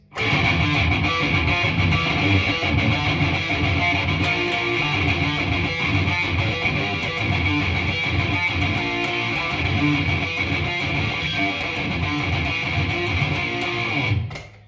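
A fast, heavily distorted electric guitar riff plays continuously at high volume, dense and driving, with rapid picked and pulled-off notes and no voices.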